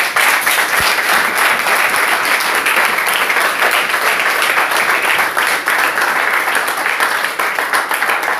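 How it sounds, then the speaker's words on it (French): A church congregation claps for the Lord during a French sermon, a loud, dense and sustained wall of applause from many hands that holds steady throughout with no talk over it. "Applaudissons pour le Seigneur."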